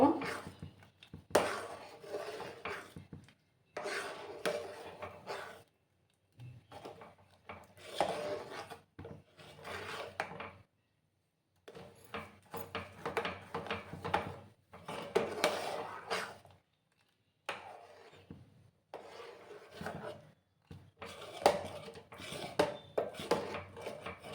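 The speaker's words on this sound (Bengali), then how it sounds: "গুড়টা দিয়ে আমি আবার ভালো করে মিক্স করে নেব।" A spoon stirs kheer sweetened with date-palm jaggery in a pot. It makes repeated scraping and rubbing strokes against the metal in uneven bursts, separated by short pauses of near silence.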